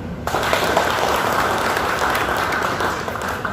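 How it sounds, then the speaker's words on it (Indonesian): Sustained, full applause from a seated audience at a corporate brand launch fills the hall after a brief quiet start, steady and loud throughout. "Tepuk tangan."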